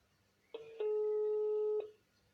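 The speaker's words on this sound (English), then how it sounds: "Now is the pastor's number ringing." A telephone ringback tone sounds while a call is placed: a short blip, then a single long steady tone lasting about a second before it cuts off. The line stays quiet around it.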